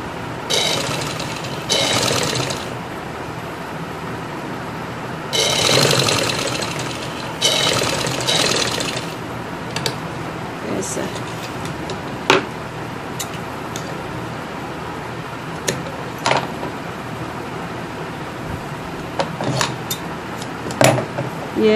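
An electric sewing machine runs in several short bursts of stitching along a folded salwar hem, separated by quiet pauses with small clicks and taps of handling.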